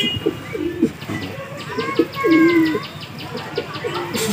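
A Dhum breed pigeon coos nearby in short repeated rolling calls, with softer chirps and twittering from other birds in the background.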